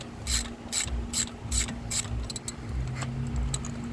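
Ratchet fitted with a 5/8 spark plug socket loosening spark plugs on a 1992–95 Honda Civic D16Z6 SOHC engine, giving a close series of quick clicking bursts in a steady rhythm, with no talk.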